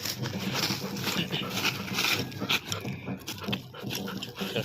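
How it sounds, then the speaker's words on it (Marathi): Dogs pant close by outdoors where cow-dung cakes are made and stacked, quick rhythmic breaths mixed with rustling and handling noise, fairly loud and without talk. "कुत्रे बघा माझ्यासोबत आलेले आहेत"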